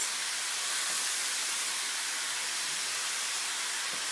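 Cauliflower rice sautéing in a pan, a steady loud sizzling hiss that holds evenly throughout with no breaks and no voices.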